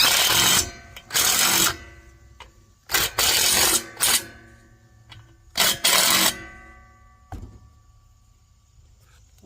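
A power driver runs a bolt into a pontoon boat's front bumper in three loud, broadband bursts of roughly half a second to a second each, with quiet gaps between them and no talking.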